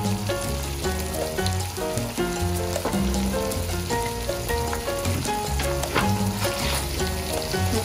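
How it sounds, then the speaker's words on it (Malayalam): Spring onion is stirred into Chinese idli in a frying pan, a steady sizzle of frying running throughout, close and even in level, with background music playing along. "അവസാനത്തെ സ്റ്റെപ്പ് സ്പ്രിംഗ് ഓണിയൻ ഇട്ട് ഇളക്കിയെടുക്കാം."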